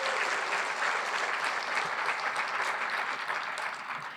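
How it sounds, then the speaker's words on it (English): A room full of people at a marathon community breakfast applauds a volunteer, a steady, moderately loud round of clapping that tapers slightly toward the end. "So round of applause for Josh for doing this for all of us"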